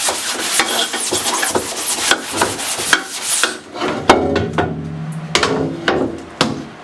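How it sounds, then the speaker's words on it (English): A blue dehazing pad scrubs a silk printing screen during screen reclaiming, giving quick rough rubbing strokes up close, then sharper scattered knocks and scrapes. "and I'm going to scrub it in here."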